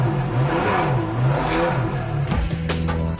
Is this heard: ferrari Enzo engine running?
yes